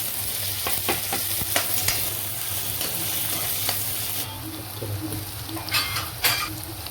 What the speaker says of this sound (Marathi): मसाला छान आपला तळून झालेला आहे